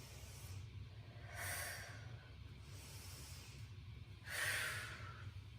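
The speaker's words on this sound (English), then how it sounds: "This would be inhale." A person takes slow, audible breaths during a leg and oblique exercise routine, two soft hissing inhales a few seconds apart, close and quiet over a low background hum.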